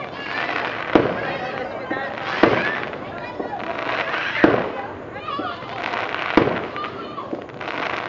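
Fireworks display bursting outdoors, with four heavy booms spaced about every two seconds over constant crackling and popping, while people talk and exclaim throughout.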